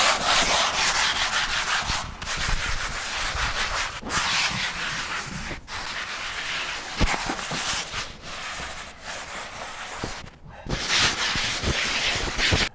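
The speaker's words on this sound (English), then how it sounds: "we're going to go and sand the entire wall with the sanding sponge" A sanding sponge rubs back and forth across a painted wall, making a steady, close scratchy rasp that runs almost unbroken, with brief pauses between strokes and no talking.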